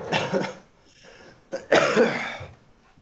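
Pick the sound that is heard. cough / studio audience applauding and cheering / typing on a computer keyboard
cough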